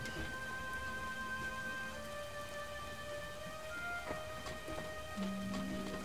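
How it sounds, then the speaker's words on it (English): Steady rain falls in LEGO Star Wars: The Force Awakens, a constant dense patter with scattered drop hits and faint game tones layered over it. "You cannot go out in that rain."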